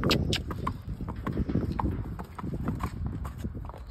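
A young, well-mannered horse walks with close, clear clip-clop hoofbeats in an irregular, steady rhythm, with faint activity in the background.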